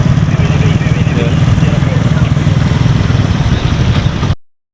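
A queue of motorcycles idles at a busy ferry crowded with passengers, a loud, continuous engine rumble close by that holds steady before cutting off abruptly near the end.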